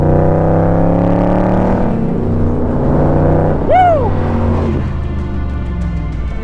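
A 2024 Shelby Cobra CSX10000 with a six-speed Tremec gearbox roars loudly up close, its pitch climbing as it accelerates. A brief sharp rev flare cuts through partway, and a person whoops once.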